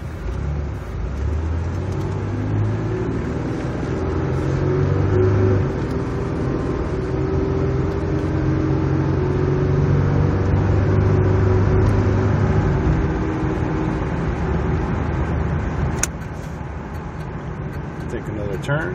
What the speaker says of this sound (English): car's idling perfect